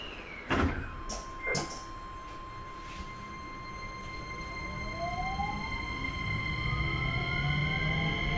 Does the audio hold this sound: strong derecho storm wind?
no